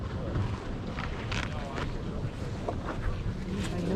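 Cold wind at an outdoor drive-in flea market buffets the microphone in a constant heavy low roar with brief gusts, loud and close, with no clear talk.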